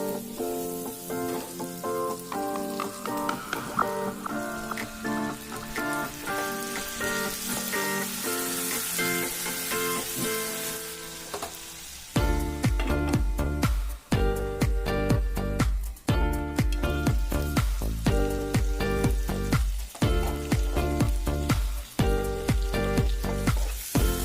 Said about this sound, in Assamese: এয়া মাংসখিনি মই ভালকৈ লৰাই ল'ম আৰু অকণমান পানী ছটিয়াই দুবাৰমান মই তেনেকৈ ঢাকোন লগাই সিজাই ল'ম মাংসখিনি